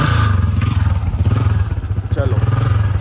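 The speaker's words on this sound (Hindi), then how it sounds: "उमर बाइक स्टार्ट कर रहा है" A motorcycle engine starting and running close by, a loud, steady low rumble with some rattling, alone without talk.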